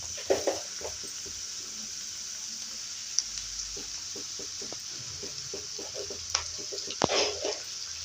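Drumstick leaves are frying in a pan with a soft, steady sizzle, broken by a few light stirring clicks and scrapes, all fairly close and moderately quiet.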